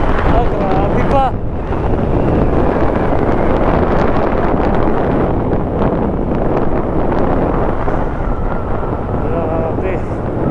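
Strong wind buffets the microphone in a steady roar in the countryside near Balagbag Falls, with vehicle noise and brief voices mixed in.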